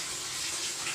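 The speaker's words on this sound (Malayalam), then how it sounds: "കൈ നന്നായി കഴുകാം." Hands are washed under running tap water after handling fish, a brief close gush of water pouring steadily.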